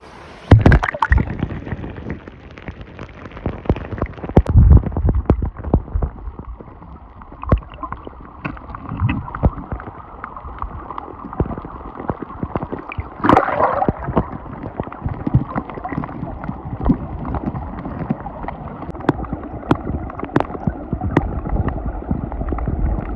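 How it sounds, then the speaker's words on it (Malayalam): A forest stream rushes and gurgles steadily nearby, with occasional splashes and knocks over a continuous flowing wash. "നല്ല അടിപൊളി വെള്ളം ഒഴുകുണ്ട്"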